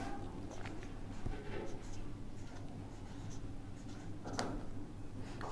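A pen or chalk scratches out an accounting formula in short, quiet strokes with occasional taps during a classroom-style lesson, faint beneath a low background hum.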